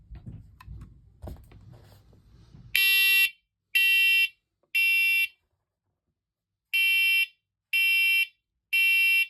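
Loud, piercing electronic alarm beeps from a First Alert wired smoke and carbon monoxide alarm being tested sound in a rhythmic pattern of three, a pause, then three more, after some quiet rustling.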